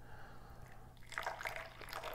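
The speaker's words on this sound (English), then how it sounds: "do a little high pour here to cool it down" Tea is poured from a height to cool it, a faint splashing trickle rising partway through over quiet background hiss.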